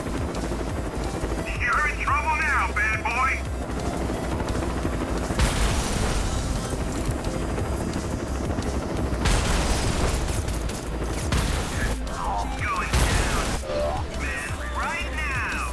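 Gunfire in GTA San Andreas with ragdoll physics mods, heard as repeated loud bursts and booms spread across a busy, continuous game soundscape.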